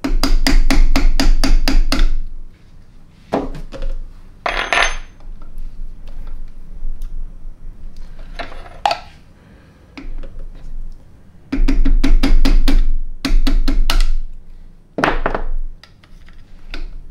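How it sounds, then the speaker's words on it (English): A punch knocks a pin out of a Ruger Mark III .22 LR pistol part held in soft vise jaws, sharp metallic taps in quick bursts of several strikes, with pauses and lighter clinks between. "With my soft jaws in the vise, very gently"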